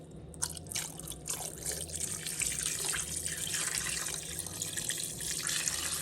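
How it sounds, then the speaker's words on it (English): Water runs into an Instant Pot pressure cooker while curry goat is being prepared, a soft, continuous splashing pour with dripping texture, steady and fairly quiet throughout. "So I've added it to my instant pot or a pressure cooker pot, and now I'm going to add some water."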